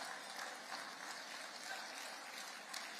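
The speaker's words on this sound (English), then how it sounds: "Give Angel a round of applause." A crowd gives faint, steady applause for Angel Cabrera, president of the Georgia Institute of Technology, at a forum event. The clapping is continuous, dense and distant, heard alone.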